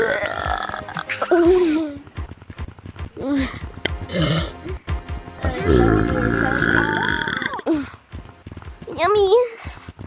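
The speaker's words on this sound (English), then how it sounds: "Stop doing that burp sound." A person lets out several loud, close burps in a row, some long and croaking, mixed in with voices talking around them.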